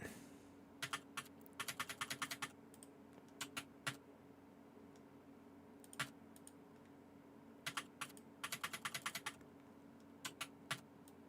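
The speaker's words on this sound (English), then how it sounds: "my keyboard is a little louder than most" A loud computer keyboard being typed on in bursts of rapid keystrokes separated by short pauses and single taps, close and distinct over a steady low background hum.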